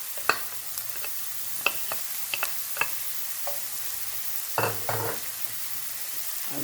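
Garlic fries quietly in a pan with a steady soft sizzle, punctuated by a series of sharp clicks and scrapes as a utensil stirs it, close and alone.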